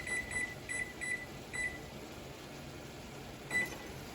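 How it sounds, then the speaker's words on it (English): Kitchen timer being set to 11 minutes while mac and cheese noodles simmer on the stove: a series of short, bright electronic beeps pressed in quick succession, then a pause and one final beep over a quiet room hum. "And set your timer for 11 minutes."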